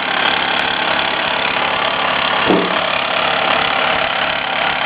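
A running Mamod ME toy marine steam engine gives off a loud, steady mechanical hum and chuff with a fast, even rhythm, plus a brief knock midway and no speech.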